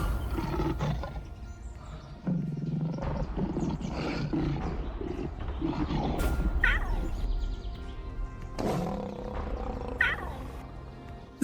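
Lions roar in Ruaha National Park, Tanzania, with deep, rumbling, drawn-out calls rising and falling over several seconds, fairly close, among outdoor ambience and faint bird chirps.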